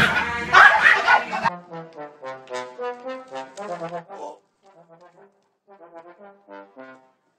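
A puppy gives a run of loud, high yips and short barks that turn into softer whimpering yelps, after a burst of noise at the start, with the calls growing fainter toward the end.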